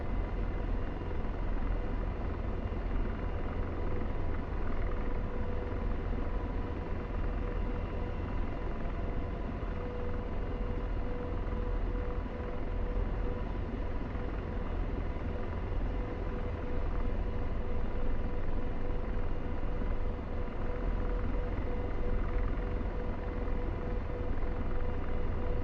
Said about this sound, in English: ugly 7-2 ship Apache at the ramp, lifting and taking off to the northeast